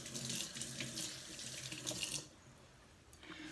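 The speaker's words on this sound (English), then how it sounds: "I'm just going to rinse my hand off." Water runs from a kitchen tap to rinse off a hand, a steady close splashing stream that cuts off partway, followed by brief quieter trickles.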